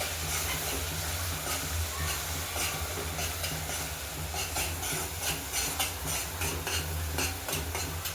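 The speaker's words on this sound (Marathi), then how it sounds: "तर आता सगळे मसाले परतून घेते." Spices sautéing in oil in a small wok for a prawn biryani make a continuous close sizzle and hiss, with light ticking crackles and occasional stirring scrapes throughout.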